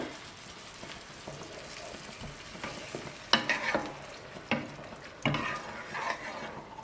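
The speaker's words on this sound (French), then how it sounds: "Vous mélangez le tout." Ingredients stirred together in a frying pan with salt added, a utensil scraping and clattering in a few close bursts over a soft steady sizzle.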